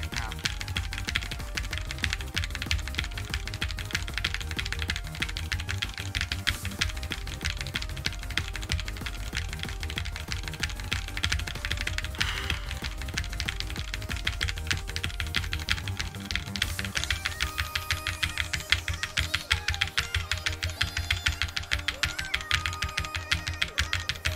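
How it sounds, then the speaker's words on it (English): Rapid keyboard tapping from a player in the osu! rhythm game, set against loud, dense electronic music from a track. The keystrokes run continuously and are partly masked by the song. "I really like the keyboard I'm using"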